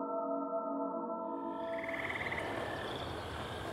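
Loud crickets chirp at night in a remote, dense forest, a steady high buzzing chorus that swells in from a tonal hum and fills the space close by.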